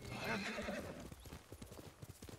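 Hooves of a horse ridden in the video game Ghost of Tsushima clip-clop in a quick, steady rhythm, with a neigh or whinny near the start over faint background ambience.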